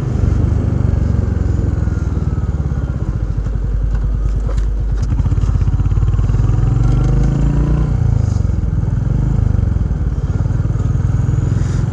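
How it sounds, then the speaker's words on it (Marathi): A motorbike nicknamed Lalpari being ridden on the road, engine running steadily and loud up close throughout, with low rumble and faint clatter but no talk. "ऋषीबाईची गाडी घेऊन आपण निघालोय आता"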